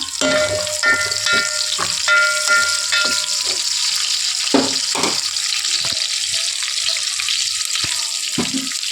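Chopped onions and vegetables frying in hot oil in a home kitchen, a steady close sizzle broken by clinks and knocks of a spoon stirring the pan.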